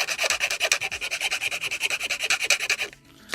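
Steady rhythmic sanding strokes on a plastic part of a 1/32 scale model kit, rapid back-and-forth rasping at a close, even pace, stopping abruptly near the end.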